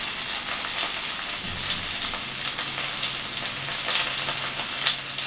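Chilli chicken ingredients with ginger garlic paste sauté in a pan, giving a dense, even hiss of frying that sounds rain-like, with occasional soft stirring, steady and close without any voices.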